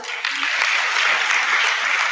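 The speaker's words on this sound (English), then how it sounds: "We give them a round of applause" Audience applause at a bronze and silver award ceremony presided over by a mayor, a dense, even wash of many hands clapping, steady and moderately loud from start to finish.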